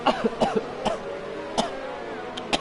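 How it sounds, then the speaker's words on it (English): Several short, sharp bursts spaced irregularly, like a person coughing a few times, fairly close and moderately loud. "As I cough."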